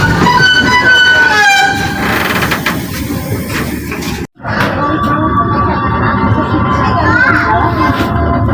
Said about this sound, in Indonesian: kereta api komuter lain Garut dengan tujuan akhir stasiun Garut kembali diberangkatkan dari stasiun Padalarang